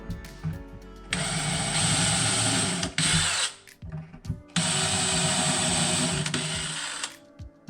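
A power drill whines loudly in two long bursts with a brief stop between, the motor pitch dipping as it pre-drills a pilot hole in a wooden cabinet door for an inset hinge.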